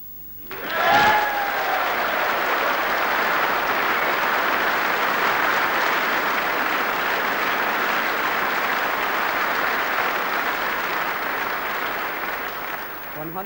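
Sustained audience applause at the 1980 Masters snooker final, a steady dense clatter of clapping that holds loud for over ten seconds after a brief louder burst at the start, with a commentator's voice faintly under it.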